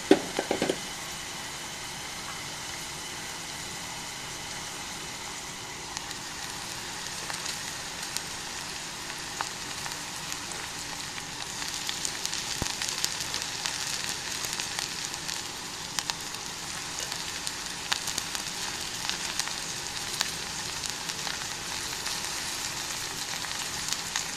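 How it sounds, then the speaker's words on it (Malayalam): Drumstick flowers frying in hot oil make a steady crackling sizzle like light rain that carries on without a break and grows slightly louder midway, heard close with no speech. "എണ്ണയിലേക്ക് ചെറുതായിട്ടൊന്ന് വഴന്ന് വന്നിട്ടുണ്ട് അതിൽ കൊടുത്ത് നമുക്ക് മുരിങ്ങേരയുടെ പൂ ചേർത്ത് കൊടുക്കാം"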